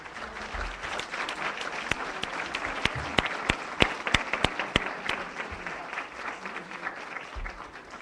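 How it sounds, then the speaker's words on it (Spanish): An audience at a book presentation applauds, a steady, moderately distant crowd clapping throughout, with a few sharp nearby claps standing out in the middle. "le damos un fuerte aplauso a la doctora Gloria Villegas"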